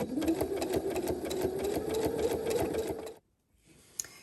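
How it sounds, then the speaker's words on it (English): A sewing machine runs a zigzag stitch at a steady fast rhythm, loud and close, its motor hum and needle ticks continuous for about three seconds before stopping abruptly. "I've switched to the zigzag stitch"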